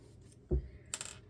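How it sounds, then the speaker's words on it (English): A glue bottle is set down on top of a paper journal with one short, close thud, followed by a brief light rattle. "I'm going to sit another glue bottle on top of it."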